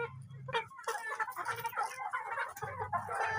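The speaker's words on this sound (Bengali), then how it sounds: "কলম্বিয়ান ব্রাহ্মা মুরগি।" Columbian Brahma chickens cluck close by, a run of short, overlapping clucks and soft calls in an uneven rhythm.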